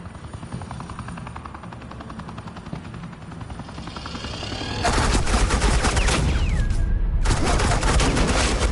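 Suppressing gunfire from a Batman: The Enemy Within scene: a steady rumble builds into dense, loud automatic bursts near the close, with sustained volleys broken by a short gap.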